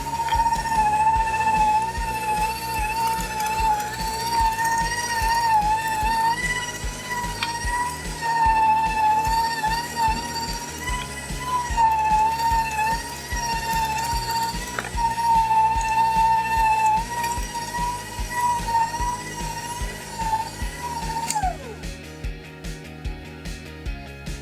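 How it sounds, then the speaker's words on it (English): A KitchenAid stand mixer with a meat grinder attachment grinds chunks of meat, giving a loud, steady whine with layered harmonic tones that holds for about twenty seconds, then drops in pitch and spins down near the end. "So all you need to do is get attachment and you have yourself a nice powerful meat grinder."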